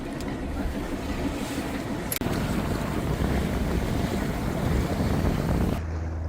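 Boat leaving a marina at the start of a sea voyage, with a steady broadband rush of wind buffeting the microphone and water noise, constant and loud throughout, a brief knock near the middle and a quieter drop at the end.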